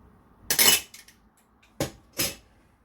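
Spoon clinking and scraping against a bowl while lukewarm milk, sugar, salt and baker's yeast are stirred together for stuffed bread rolls, in a few separate clattering bursts with quiet gaps between.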